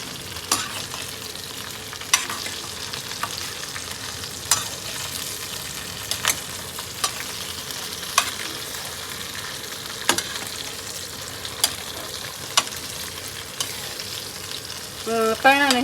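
Bitter green chili pickle with spices stirred in a pan for a Punjabi sweet pickle, a steady sizzling frying hiss broken by regular scraping strokes of a spoon, close and continuous with no talking.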